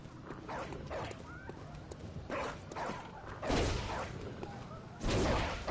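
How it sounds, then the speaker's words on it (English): Dogs in the video game Bloodborne snarl and bark in short bursts amid combat swishes, with a couple of louder lunging barks near the end. "Say, I'm trying to kill these dogs efficiently."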